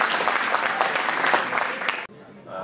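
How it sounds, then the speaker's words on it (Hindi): Audience at a Hindi poetry gathering gives a burst of dense, lively applause that cuts off abruptly near the end, with talking mixed in. "भाई साहब एक बार तालियां बजा दीजिए"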